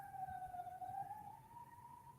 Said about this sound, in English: Is that a tornado siren at your house or what? Ambulance.